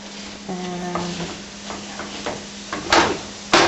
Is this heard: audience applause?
no